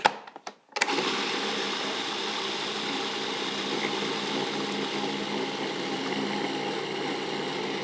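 A food processor whirs steadily as it blends a raw food pâté, starting with a couple of short pulses and then settling into a continuous loud motor drone with no talking.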